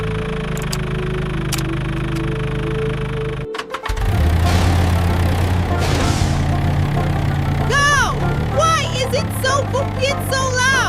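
Farm tractor engine rumbling along, a low steady drone that surges louder after a sudden clunk partway through and then keeps running, with high excited voices talking over it toward the end.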